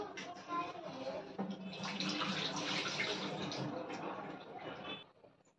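Water runs and splashes steadily as pieces of shark fish are washed by hand for a village-style curry, a continuous close wash that fades out near the end.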